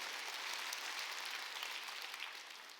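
Faint, steady applause from a church congregation during a Wednesday worship service, a soft even wash of many hands clapping that continues throughout without any voices.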